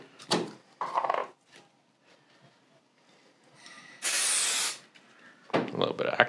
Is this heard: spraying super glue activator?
yes